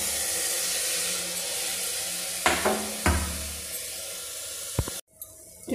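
Rice for masala pulao sizzles in a hot pan with a steady hiss, while a spoon scrapes and stirs it in a few distinct strokes and then stops abruptly near the end.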